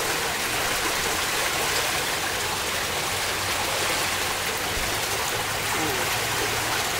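A combined sewer overflow pours in a heavy torrent into the Allegheny River during rain, producing a dense, continuous roar of rushing water that stays loud and steady throughout, close by, with no talking.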